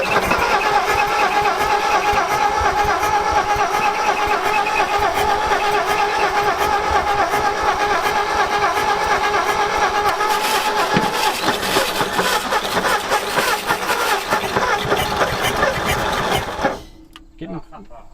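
An abandoned panel truck left sitting about 40 years, fitted with a new carburetor and accelerator pump, cranking and running roughly in a loud, close, continuous mechanical clatter that drops away abruptly near the end; voices talk underneath.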